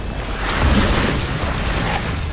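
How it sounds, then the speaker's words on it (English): A deep, rumbling video game explosion in Resident Evil 3 Remake rolls out and lingers as a broad, noisy roar for a couple of seconds. "Explosions!"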